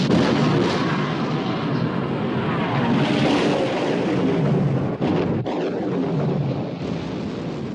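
A ship's big guns fire during a naval battle in the 1960 film Sink the Bismarck, a heavy, continuous roar of rumbling blasts with a few sharper reports near the end.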